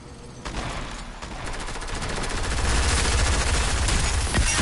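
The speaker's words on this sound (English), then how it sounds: "We both sprayed our SMGs" SMGs spray in a video game firefight, two weapons unloading in rapid continuous automatic bursts that build in loudness and stay close and dense to the end.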